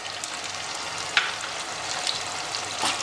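Cashews and almonds frying in a pan for chicken biryani, a continuous soft sizzle with occasional sharper crackles and pops, no voices present.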